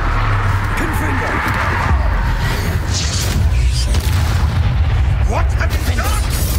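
A Confringo spell explodes in Hogwarts Legacy: deep booming blasts and rumbling in-game effects, continuous and fairly loud, with a voice speaking over them.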